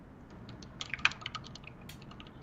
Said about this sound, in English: Right on my loud keyboard.